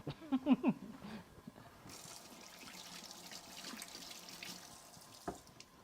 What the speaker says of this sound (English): Come back and wash my hands.